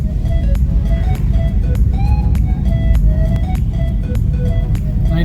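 A car speeds up during a driving lesson on a busy road, its engine a loud, steady low rumble throughout, with short tonal horn beeps from nearby traffic sounding repeatedly over it.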